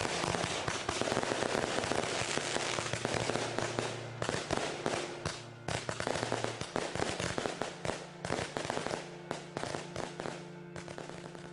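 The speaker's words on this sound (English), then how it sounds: "and we would shoot off fireworks." Fireworks going off at a lakeside house, a dense, continuous barrage of crackling bursts and pops, loud and steady, with no speech.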